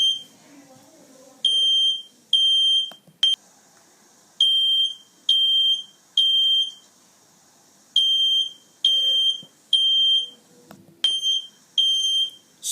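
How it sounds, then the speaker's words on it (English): Home smoke detector fire alarm sounding in repeated bursts of shrill, piercing beeps, each lasting about half a second to a second with short gaps, loud and close, with faint background movement between bursts. "alert us about the fire alarm sounds ringing in our home"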